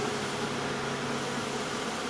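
Honeybees buzzing inside a heavy shovel excavator, a steady, close, loud droning hum with no pauses or voices.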